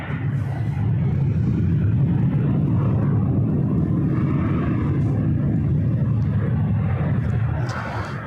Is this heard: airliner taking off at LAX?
yes